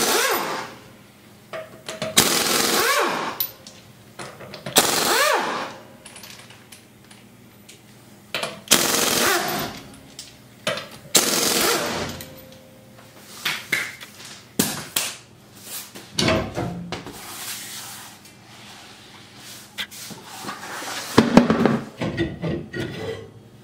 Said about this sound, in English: let's knock these lug nuts off and see what we're working with